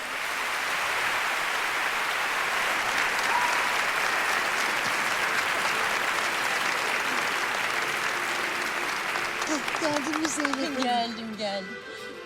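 Applause from an audience honoring students from 17 countries and their teachers, a dense steady clapping that holds for about ten seconds before thinning out, with a few voices and tones surfacing near the end.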